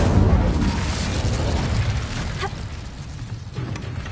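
Booming fire blasts from explosive fire spells in the video game Hogwarts Legacy, loud rumbling bursts that roll and fade over about four seconds, with no talk heard.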